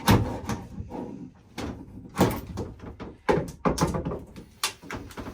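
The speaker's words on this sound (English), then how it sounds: "Pop all these fancy covers off." Plastic access covers on a boat's starboard cabinet are pried and popped off by hand, giving a series of sharp clicks, thunks and snaps, close and fairly quiet, at an irregular pace with no talking.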